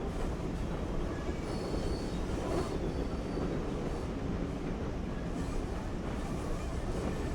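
A Class 08 shunter locomotive rolls slowly through Blackpool North in Train Sim World, a steady rumbling wheel-and-rail drone with faint metallic creaks, continuous and close throughout without any talking.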